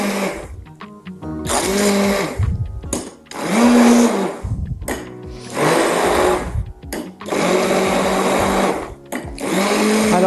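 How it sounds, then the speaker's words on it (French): Immersion blender whirring through zucchini and broth for Algerian chorba soup, loud, in several bursts separated by short pauses as the pitch shifts with the load. "on prend notre bras mixeur"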